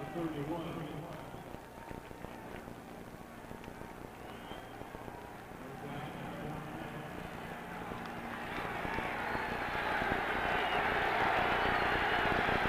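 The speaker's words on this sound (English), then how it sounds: "Now the crowd comes alive at Candlestick" A stadium crowd at Candlestick Park during a 1988 Atlanta Falcons at San Francisco 49ers NFL game swells from a low murmur into loud, sustained cheering, with a commentator talking throughout.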